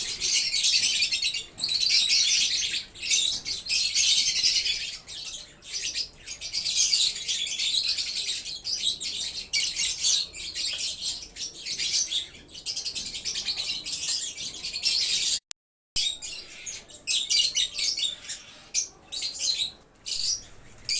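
Pet breeding-pair birds, including green and violet budgerigar-type cage birds, chirp and tweet continuously in a dense, bright chorus, close and lively, with a brief silent gap near the end and no talking.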